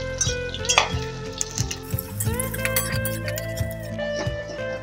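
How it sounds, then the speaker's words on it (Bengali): Thin-sliced onions frying in a small batch in a pan, a soft sizzle broken by clinks of a utensil against the pan, with quiet speech in the background. "এইটুকু পেঁয়াজকে 3 বারে ভাজবো।"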